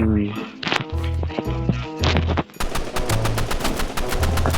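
Rapid bursts of gunfire from the Roblox shooter game Rivals, with sporadic shots at first and then fast, evenly spaced automatic fire over the second half, set against tonal game sounds.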